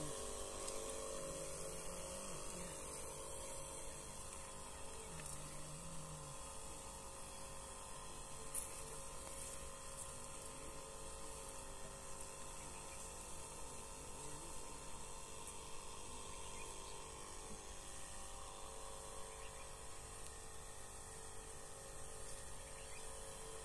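A sprayer pump working over an onion field runs as a continuous, fairly faint mechanical whine and hiss, holding steady and unchanging throughout with no talking.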